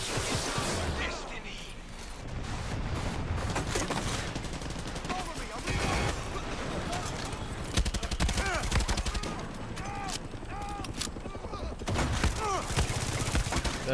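Dense, chaotic gunfire from the shooter game Far Cry 6, with overlapping shots, blasts and crashes continuing throughout, while players talk over the din.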